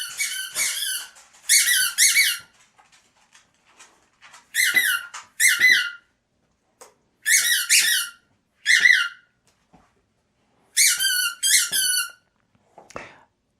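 A squeaky dog toy squeezed again and again, loud shrill squeaks in paired bursts separated by quiet gaps, close by, with a faint thud near the end.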